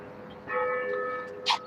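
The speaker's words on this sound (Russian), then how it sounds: "Колокола бьют. Это вот здесь, на католической церкви." Bells at a Catholic church start ringing after a brief quiet moment. The ringing is moderately faint and sustained, heard from outdoors at some distance.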